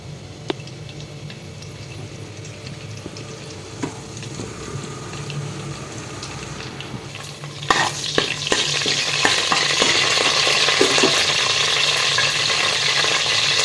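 Cumin seeds splutter in hot oil in a pot, and curry leaves then hit the pan with a sudden louder burst of sizzling. The sizzle stays loud and constant near the microphone after that, with no talking.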